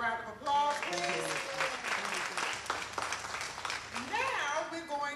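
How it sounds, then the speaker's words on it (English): Audience applause at a Pan African tribute conference, a steady wash of clapping lasting several seconds with voices and cheers mixed in over it. "Give them all a round of applause, please."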